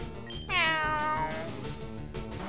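Meowth's cry from the video game Pokémon LeafGreen: a single loud, bright meow that glides downward and fades over about a second, over steady game background music.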